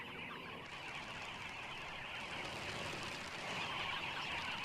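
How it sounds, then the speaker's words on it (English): A flock of dozens of birds bustles and flutters at an African watering hole, making a dense, steady wash of wingbeats and calls that holds evenly for about five seconds. "The noise and bustle of dozens of birds coming and going make it stop drinking twice."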